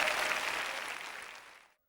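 Women in a church audience clap together in a brief, dense burst of applause that fades out within two seconds.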